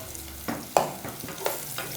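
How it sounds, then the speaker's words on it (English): Food sizzles in a frying pan with a steady crackle while browning for ash plantain soup, punctuated by a few sharp scraping stirs of a utensil. "straight away, you can hear it sizzling"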